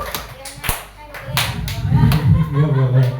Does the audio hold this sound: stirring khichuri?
no